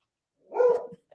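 One single dog bark, mid-pitched and moderately close, with a short rough tail, heard alone indoors during a conversation.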